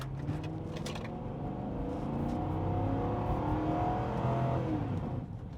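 A large, powerful land yacht car engine revs and accelerates hard, a loud sustained roar that builds and holds steady for several seconds, heard from inside the cabin with no talking.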